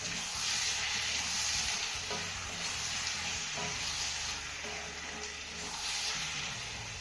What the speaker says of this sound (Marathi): आपल्याला मौसूद होईपर्यंत चांगला परतून घ्यायचा आहे